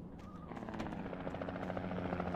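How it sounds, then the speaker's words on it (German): A helicopter in the video game Alan Wake drones with a steady rotor buzz that swells slightly and holds loud and near throughout. "Ah, der Hubschrauber."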